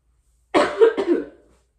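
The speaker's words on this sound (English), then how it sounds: "Let's see how I lifted and coughed in my elbow." A single close cough into an elbow, a short double burst, loud and alone against silence.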